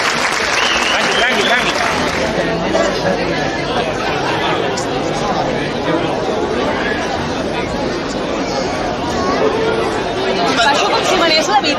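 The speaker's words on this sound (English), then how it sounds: "When she raises her arm, we can cheer." Dense crowd cheering and clapping at a Catalan human tower (castell) event, a loud continuous roar of applause and chatter filling the whole stretch with no pauses.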